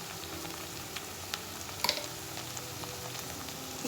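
Taro pieces frying in oil with chili powder and salt, a soft steady sizzle and crackle up close, with a few light clicks of stirring and no talking.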